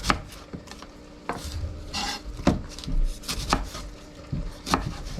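A knife chops through a halved yellow onion on a cutting board, with a run of sharp, separate close taps and scrapes at an irregular pace.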